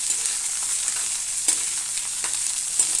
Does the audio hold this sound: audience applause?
no